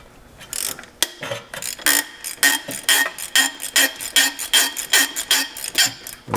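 A ratchet clicks steadily while loosening bolts during an automotive AC system repair, a fast, regular run of sharp metallic pawl ticks in even bursts, close and fairly loud, with no talking.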